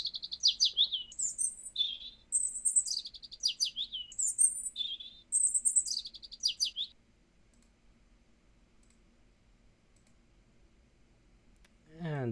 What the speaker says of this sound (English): give the impression that perhaps this is not just one bird but many birds singing together at the same time